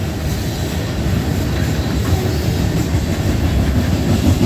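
A Norfolk Southern tanker freight train, likely carrying ethanol, rumbles past at Tarentum, Pennsylvania in a loud, steady roar of wheels and rolling tank cars close by.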